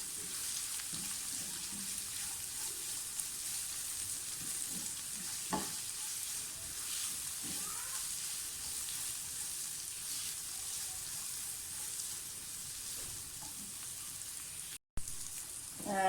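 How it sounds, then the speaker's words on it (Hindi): Dates and dry fruits frying gently on low heat for sheer khurma, a steady soft sizzle running throughout with occasional stirring clinks, close and moderately quiet, with no talk. "खजूर डाल दें, तो भी फ्राई कर लें अच्छी तरह से।"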